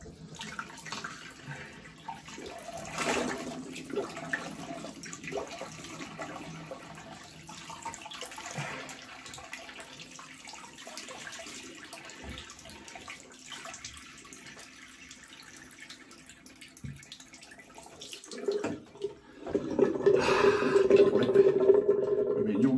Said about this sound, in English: Let's empty this. Empty the sink. Have a quick rinse.